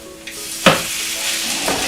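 Gluten-free mackerel tuna cakes fry in a pan with a steady close sizzle, broken by a sharp clack near the start and a couple of softer bumps as more cakes are added.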